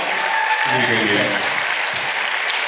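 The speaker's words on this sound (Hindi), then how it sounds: "एक बार दोबारा तालियां बजा दीजिए डॉक्टर जी के लिए" An audience applauds a newly qualified doctor with steady, dense clapping that carries through the whole moment, with a few voices underneath.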